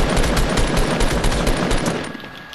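Rapid automatic gunfire in Fortnite Battle Royale rattles out as a loud, dense burst of shots that fades away over the last half second.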